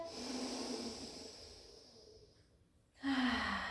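Slow, deep breaths in and out during a Pilates session, a long hissing exhale fading to near silence before a sharp, louder intake of air close by.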